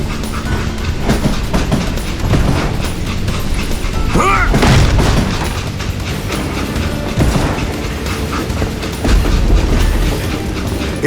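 A train rolls along in the Western shooter Call of Juarez: Gunslinger, with loud, continuous rumbling, rhythmic clickety-clack from the wheels and clanking wagon mechanisms, close and steady throughout.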